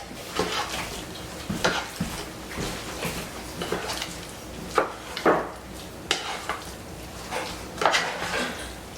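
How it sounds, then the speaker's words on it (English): Turkey pot pie filling stirred in a pot, a spoon scraping and clinking against the sides in uneven strokes with a few sharper knocks, fairly close and moderately loud, with no voices. "Stir this up."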